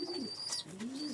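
A pair of Shaki pigeons coos close by, with soft, rising and falling throaty calls over about a second and no talk.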